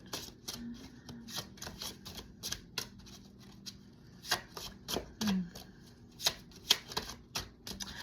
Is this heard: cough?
no